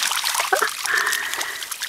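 Puppies splash and paddle in a backyard pond, giving a steady wet trickling and sloshing with a few sharper splashes, close and continuous throughout.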